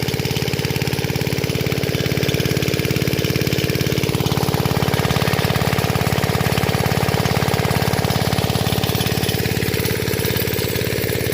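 Continuous close-up noise of a Rajkot-made irrigation pump engine, a heavy rhythmic thumping that holds steady for the whole stretch, with no one speaking.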